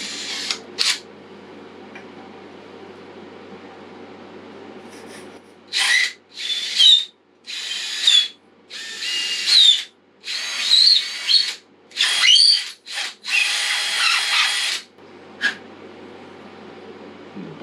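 Power drill turning a small reamer while building an inshore spinning rod, heard as a series of short whirring bursts, roughly eight in a row, each lasting about a second with pauses between, close and fairly loud.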